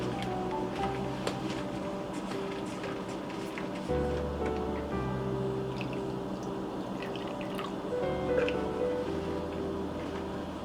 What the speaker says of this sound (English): we're gonna add our rose water